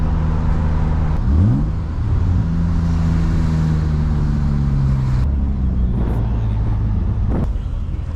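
A BMW E36 328i fitted with a single-exit exhaust revs at a gas station: a close, loud engine note climbs sharply about a second in, then holds and settles into a steady, burbling idle.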